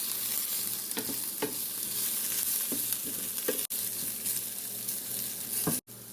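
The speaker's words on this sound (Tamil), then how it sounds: "சில்லி ஃப்ளேக்ஸ், மஞ்சள் தூள் சிறிது சேர்த்து கலந்து வெங்காயத்தை வதங்க விடுவோம்" Onions sautéing in a pan with chilli flakes and turmeric for okra varai, a steady soft sizzle with occasional stirring scrapes, close and fairly quiet, no voices.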